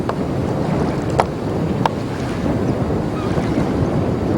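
Fast current of the Kenai River in Alaska rushes steadily and loudly, with wind buffeting close by and no talk.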